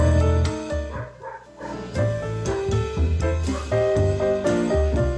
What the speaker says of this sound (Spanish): ¿Escuchan a mi perrito ladrar?